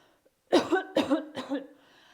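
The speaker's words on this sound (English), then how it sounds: "put one hand behind your back and cough like this" Three quick, close coughs in a row, each sharp and breathy, followed by a soft exhale, with one hand held behind the back.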